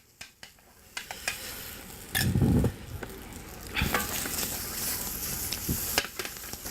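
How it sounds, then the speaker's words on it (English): Quail searing in a hot wok or fry pan, a bright sizzle with clattering knocks and one low thump as pieces are moved, close and without talk. "we'll start off in our wok here, or in our fry pan at least, with the quail"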